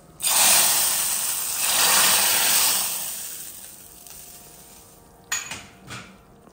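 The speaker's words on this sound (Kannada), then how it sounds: "ಒಗ್ಗರಣೆ ಹಾಕುವ" Mustard seeds and curry leaves hit hot coconut oil for a tempering, a loud broadband sizzle that swells and fades, followed by a couple of sharp pan clinks near the end; no talking.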